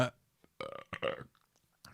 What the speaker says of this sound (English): I am burping hard tonight.